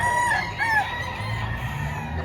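A Talisayin golden boy rooster crows loudly and close by at a poultry market, its cry rising and falling for about a second against a steady bustle of market noise.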